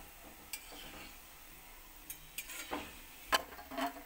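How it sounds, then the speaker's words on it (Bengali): Homemade Bengali fried sweets cook in oil over a low gas flame, with a faint, quiet sizzle and scattered light clicks and scrapes of stirring in the pan. "যে বাকিগুলো আমি ভেজে নিচ্ছি।"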